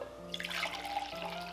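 Brewed coffee from a Café Grumpy Momentum blend poured out of a brewer into a cup, a soft steady liquid trickle with faint dribbling, heard close and quiet with no voices.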